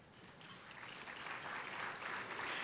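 Applause rises from the audience at a county sports awards and hall of fame ceremony as committee members stand, a soft, distant wash of clapping that slowly swells.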